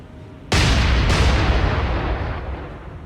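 A naval gun barrage in a warship strategy game set in the East Indies campaign: a sudden loud boom bursts out, a second blast lands close behind, then a long rumbling decay fades out.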